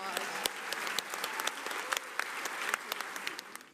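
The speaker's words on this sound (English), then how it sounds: "Please give them a warm round of applause" An audience at a literary gala applauds a group of authors, a distant, fairly quiet patter of many hands with sharper individual claps standing out, continuing evenly throughout, with faint voices underneath.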